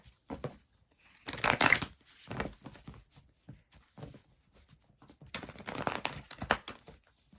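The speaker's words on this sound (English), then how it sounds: "I guess I don't know how to shuffle." A deck of cards is shuffled in a few short, close riffling bursts separated by quiet pauses, with no talking.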